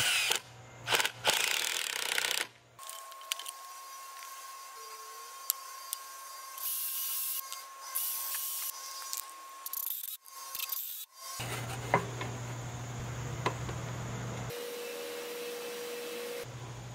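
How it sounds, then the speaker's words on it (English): A neighbor's lawn mower or leaf blower drones steadily in the background outdoors, with louder bursts of broadband machine noise coming and going over the whinier engine tone. "somebody's mowing their lawn or blowing their leaves every time I'm making a video. So, enjoy the background noise."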